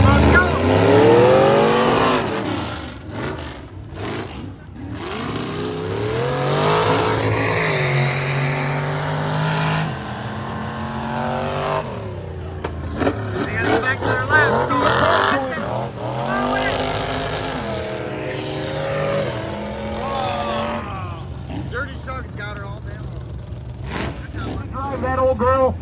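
Trucks, among them an old square-body, race through the mud at a mud bog event in Michigan, engines roaring and revving loudly and steadily throughout, surging and fading as they pass, with crowd voices mixed in.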